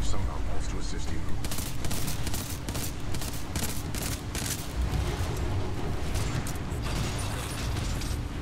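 Rapid bursts of gunfire and mechanical clatter fill a Titanfall 2 battle, dense and continuous, with booms and a voice speaking briefly underneath.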